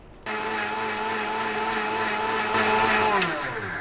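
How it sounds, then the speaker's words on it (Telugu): A mixer grinder switches on abruptly and whirs at a steady loud pitch while grinding roasted gram, its motor tone rising and dipping slightly as the load shifts, close and without talk. "మనం ఇవి పుట్నాలు కూడా ఒకసారి గ్రైండర్ చేసుకొని తీసుకొస్తాను."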